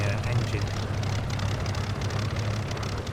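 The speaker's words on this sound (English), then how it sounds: "Classic sound from a Spitfire." A Spitfire's engine in a flight simulator game gives a steady low droning hum, continuous and fairly loud, with a voice talking over it.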